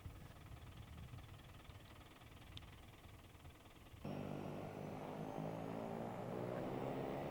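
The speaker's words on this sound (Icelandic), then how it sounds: "Senn kemur að því að síðasta flugvélin hverfur héðan á þessu hausti" A propeller airplane flies at the remote Meistaravík airstrip. Its steady engine drone is moderate at first, then jumps abruptly louder and fuller halfway through, holding a sustained roar with no talk.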